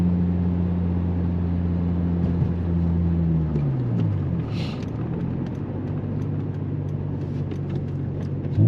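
Honda Civic car driving, a steady interior engine hum and road rumble whose tone drops as it shifts or slows midway, then settles, moderately loud with no talking.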